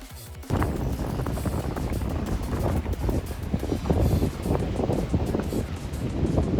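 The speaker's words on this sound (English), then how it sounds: "It's a little windy." Steady wind gusting across the microphone at a lake during a fall storm, a constant rushing roar that picks up after a brief quieter start.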